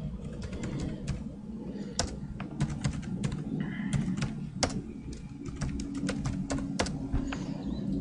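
Rapid typing on a computer keyboard, a steady run of close, crisp key clicks with irregular bursts and a few heavier strokes, likely the enter key, over a low room hum.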